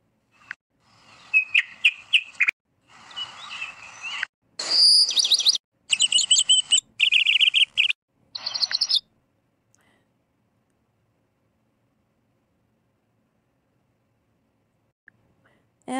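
Bird chirps and whistles from a video editing app's sound effect library, several short bright bursts of tweeting over about nine seconds, then near silence.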